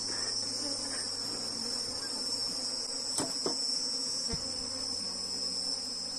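Dense, steady hum of many honeybees swarming around an opened hive box, close and continuous, with a few soft knocks and handling clicks partway through; no voices.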